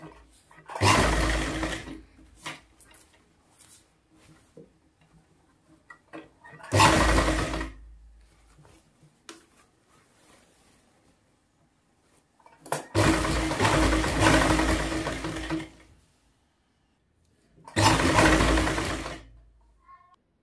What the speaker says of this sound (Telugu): ఇదైతే మనము ఈ విధంగా స్టిచ్చింగ్ అయితే చేసుకోవాలి.